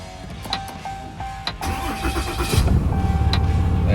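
A Ram truck engine cranks with a whirring starter and a chime beeping, then catches and settles into a loud, close, rumbling idle.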